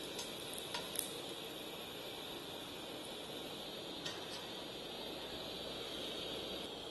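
Onions char directly on a gas cooker flame with a soft, steady sizzling hiss and a few faint crackles and ticks, low and continuous throughout.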